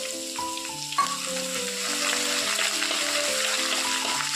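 About two tablespoons of ginger cut into long strips frying in hot oil in a pan for a fish curry; a steady, close sizzle runs beneath louder melodic background music throughout.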